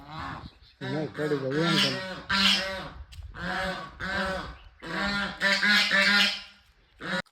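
Loud, nasal honking calls from swans come in repeated bursts with short pauses between them, close by.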